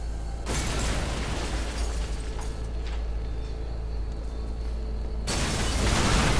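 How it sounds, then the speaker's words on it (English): Explosions in the video game Hatred: a sudden loud broadband blast opens, then a rumbling, sustained roar with mechanical drones, and a second loud burst near the end. "Is my person immune to, like, explosions or something?"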